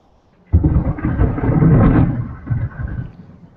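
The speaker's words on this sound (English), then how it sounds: "He says as a bolt of lightning goes on outside of his room." Thunder from a lightning bolt outside a room bursts in suddenly and rolls on as a loud, deep rumble that slowly fades, with no talking.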